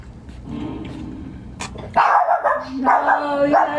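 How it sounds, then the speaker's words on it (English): A dog barks in a home, a run of loud, close barks and yips that grow stronger halfway through, heard alone without talk. "No, you have to bark at everything."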